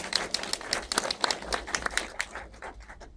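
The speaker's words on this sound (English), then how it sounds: "Please give a round of applause to our incredible panel." A film-festival audience claps for a panel at a post-screening Q&A, a quick patter of separate, close hand claps that thins out and fades after a few seconds.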